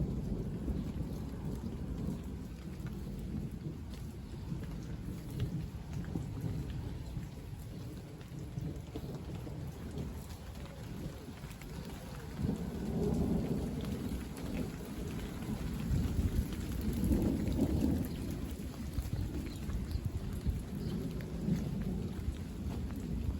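A thunderstorm at the tail end of a summer heatwave, with steady heavy rain drumming on surfaces and low rolling thunder building to a louder rumbling clap midway through, continuous and fairly close, with no voices.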